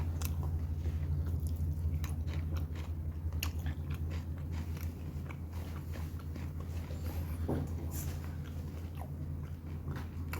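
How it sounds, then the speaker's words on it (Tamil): Close chewing and biting of beef dum biryani, with soft wet crunches repeating steadily over a low steady background hum, no talk. "இப்போ சாப்பிட்டு பார்த்துட்டு சரி சொல்கிறேன் எப்படி இருக்குன்னு"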